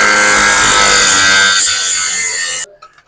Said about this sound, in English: Just let the weight of the saw cut the metal.